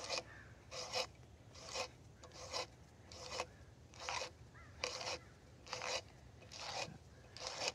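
A saw file rasps across an auger bit during timber-frame work in about ten steady, even strokes, each a short bright scrape separated by brief pauses, close and alone.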